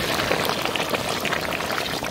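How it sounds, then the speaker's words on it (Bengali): Water is poured into a large pot of goat meat curry, about 30 kg, cooked for village people. A steady, close, rushing splash runs without a break for about two seconds. "এবার আমরা জল দিয়ে ঝোল করে"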